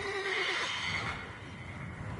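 A horse whinnies in The Witcher 3: Wild Hunt, a clear drawn-out neigh that falls away, followed by faint hoof clatter and quieter background.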